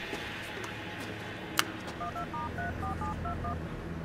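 A telephone keypad is dialed in a film scene, a quick run of about eight to ten short electronic tones over a steady background hum, preceded by a single sharp click.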